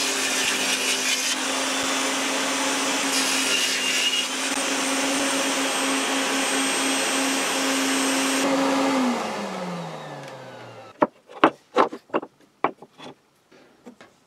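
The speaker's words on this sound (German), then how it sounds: "Und da schneide ich mir jetzt Nuten rein" A table saw set to 15 mm cuts grooves into wood with a loud, steady, close whine; the blade then spins down, and several sharp knocks and clatters follow.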